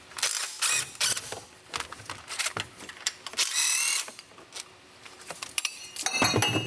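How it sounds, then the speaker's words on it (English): Ratcheting 13mm socket wrench loosening the two thermostat housing bolts on a 2009–2024 Ram 1500 5.7L engine, heard as close, repeated bursts of metallic clicking with short pauses between strokes. "we're going to take a 13mm socket, remove these two bolts that hold the thermostat housing on."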